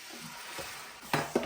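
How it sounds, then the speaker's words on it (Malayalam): Spice powders are stirred into boiling water in a pan to form a paste. A soft, steady bubbling hiss is heard close by, with a couple of quick scrapes of a utensil near the end. "നന്നായിട്ട് നമുക്കൊന്ന് മിക്സ് ചെയ്ത് നല്ല കുഴമ്പ് ഒരുവത്തിലാവുന്നു"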